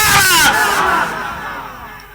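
At an Eid Milad gathering, a large crowd roars a loud chanted response to a religious slogan, one massed shout that swells at once and slowly fades away.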